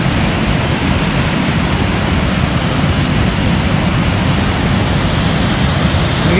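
A constant, loud roar of falling water from Ozar Kada waterfall in the Konkan near Rajapur, steady broadband rushing that holds unchanged for several seconds with no voices.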